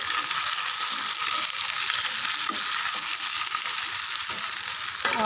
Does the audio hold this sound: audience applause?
no